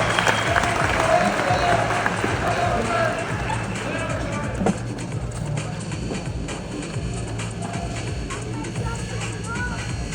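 Audience clapping together at a gathering, a continuous moderate wash of applause over about ten seconds with some voices and background noise mixed in, easing slightly partway through.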